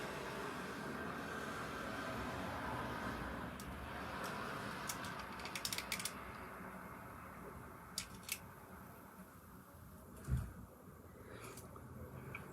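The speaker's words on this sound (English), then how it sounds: "This is the lash curler." A metal eyelash curler clamped on lashes, giving a few faint, brief clicks over a steady room hum, with no speech.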